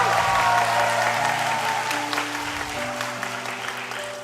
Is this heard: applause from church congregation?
yes